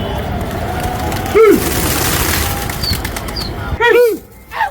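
Two short bursts of wing flapping as a pigeon takes off, the second followed by a brief flurry, over steady outdoor background noise.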